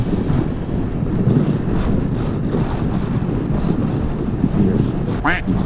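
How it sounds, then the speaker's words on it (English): Strong wind roars and buffets the microphone of a scooter rider on an open road during a long-distance rally, a loud constant rushing that never lets up, with brief higher whistling near the end. "the wind is just brutal. It's trying to push me off the road"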